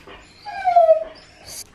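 A dog gives a single close, thin whimper that rises and falls over about half a second, with a brief faint yip or rustle just after, in a quiet room with no talking.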